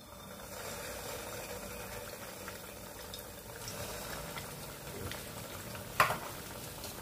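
Bread rolls dropped into hot oil, a steady close sizzling and bubbling that runs throughout with one brief sharper splash near the end, no voice.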